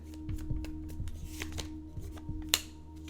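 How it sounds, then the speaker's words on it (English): Tarot cards being shuffled by hand, a soft run of quick riffling flicks and taps close up, with a sharper snap near the end and no talking. "One more shuffle."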